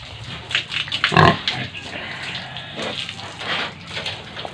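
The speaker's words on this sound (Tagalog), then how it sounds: "ito yung mga baboy natin" Farm pigs grunt and oink near the mic, with one loud squeal-like grunt early on and a scatter of softer grunts after. Running water sounds in the background.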